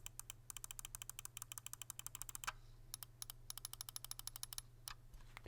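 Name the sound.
Logitech G303 Shroud wireless mouse side button clicks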